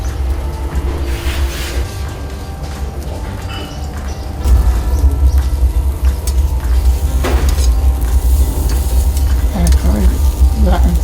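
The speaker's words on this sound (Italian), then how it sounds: "prendiamo i nostri sgombri e li mettiamo sulla brace" Mackerel fillets sizzle on glowing grill embers, a steady crackling hiss that swells louder partway through, with faint clinks and scattered pops over a low continuous rumble.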